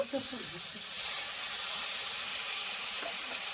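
Water poured into spice paste of ginger, cashew, poppy seed and melon seed frying in a pan sets off a loud hissing burst of steam that settles into a steady softer sizzle.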